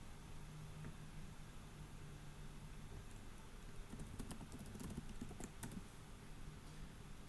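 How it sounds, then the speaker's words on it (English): Faint clicking of a computer keyboard as a password is typed, scattered light taps growing busier midway, heard close but quiet over a steady background hiss. "Let me type my password right here."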